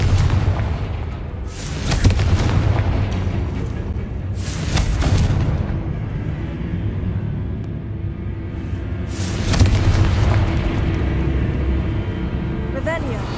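Blasting-spell explosions in a video game, a few heavy booms spaced several seconds apart over a steady rumbling background.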